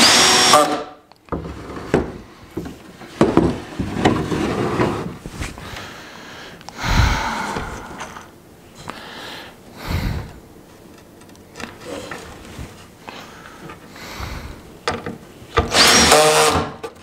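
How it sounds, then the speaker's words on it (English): A power drill whines and strains in several separate bursts close by as the bit struggles through a knot in wood, with quieter pauses between runs. "the drill bit doesn't want to go through"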